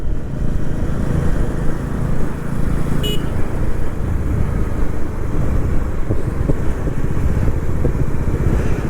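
Motorcycle engine drones steadily along a road near Sinnar, Nashik, with constant wind and traffic noise around it and a brief high squeak near the middle.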